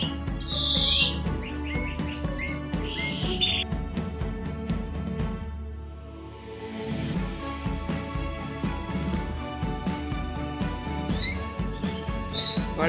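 Cage birds nesting at the start of a second brood, chirping and tweeting in rapid, busy bursts close by, with a brief lull midway before the chatter resumes.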